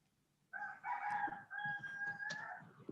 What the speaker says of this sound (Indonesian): Oh, rupanya sama Hayatul tuh ayam ya.